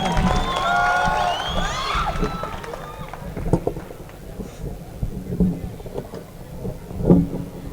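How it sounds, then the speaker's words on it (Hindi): A crowd at a political rally cheers and whistles loudly for a couple of seconds, then fades into scattered clapping, shuffling and murmur. "जोरदार तालियों से स्वागत किया जाए।"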